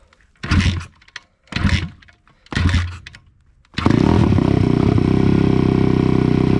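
A Suzuki motorcycle is kick-started in three labored kicks, each a short sputtering turnover, before the engine fires and settles into a loud, steady, close-up idle.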